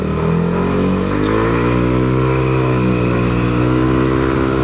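Yamaha Aerox V3 scooter fitted with a 4S1M Street Core Silent Killer exhaust revs steadily up and holds a loud, droning engine note close by, with no one talking.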